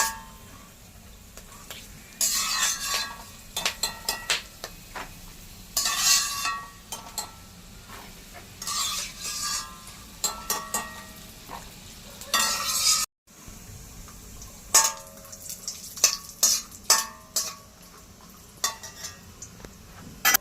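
Edible gum frying in hot ghee for dink laddu sizzles in bursts while a spatula stirs and scrapes the pan close up, pausing briefly midway before the stirring resumes.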